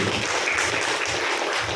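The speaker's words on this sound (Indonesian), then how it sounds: "Tepuk tangan dulu kali ini." An audience at an Islamic study gathering at SDN Dalem in Yogyakarta claps together, a dense, loud, steady burst of applause with no voices over it.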